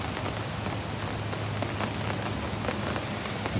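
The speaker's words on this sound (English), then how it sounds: "A bit rainy." Steady rain falling over a fishing lake at Etang La Ballastiere in France, a dense continuous patter with occasional louder drops, heard alone with no talk.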